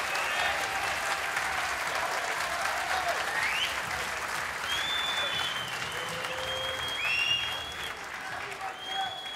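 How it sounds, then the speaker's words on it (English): The Alexandra Palace snooker crowd gives a sustained standing ovation during a Masters semi-final. The dense, steady applause runs throughout, with a commentator talking over it. "he gets a standing ovation from this alley-pally crowd"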